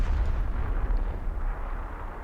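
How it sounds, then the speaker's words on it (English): Explosions in the space game EVE Online, a deep, rumbling boom that rolls on continuously at fairly loud level and slowly tapers off, with no voices over it. "the explosions do not damage your ship"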